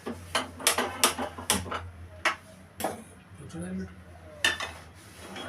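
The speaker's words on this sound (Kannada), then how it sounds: "ಗ್ಯಾಸ್ ಮೇಲೆ ಒಂದು ಕಡಾಯಿ ಇಡ್ತಾ ಇದ್ದೀನಿ" A kadai pan is set down on a gas stove amid a series of sharp metallic clanks and knocks, loud at first and then sparser, with quiet handling noises between.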